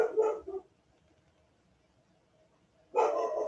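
A dog barks somewhere in the background, two short clusters of yips a few seconds apart with near silence between, moderately distant and clear.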